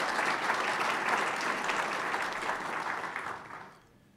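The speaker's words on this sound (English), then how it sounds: "So let's give Dr. Tony a round of applause." An audience at a groundbreaking ceremony breaks into steady, dense applause that holds for about three and a half seconds and then fades off quickly.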